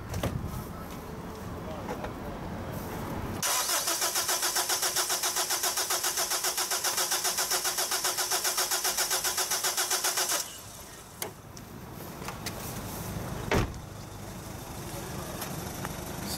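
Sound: Honda FR-V diesel engine cranking during compression test

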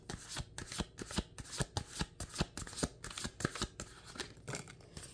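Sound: Pagan Cat Tarot cards being shuffled and drawn

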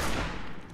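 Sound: gunshot headshot in the video game Fallout 4

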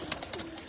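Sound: pigeons cooing on a rooftop

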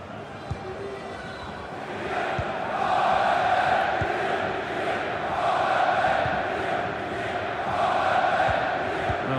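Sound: stadium crowd in the video game EA FC 24

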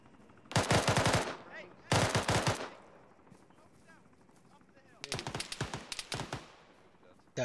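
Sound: gunfire in the video game ArmA

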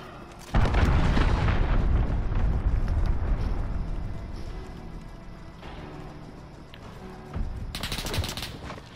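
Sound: cruise missile strike explosions in a Call of Duty video game

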